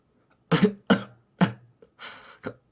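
Five deliberate, separate coughs come close by with short pauses between them. They sound forced and throaty, with no talking.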